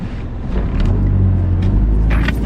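Car engine rumbling steadily in slow morning traffic outside a Starbucks, a low continuous drone that swells slightly as vehicles creep past close by.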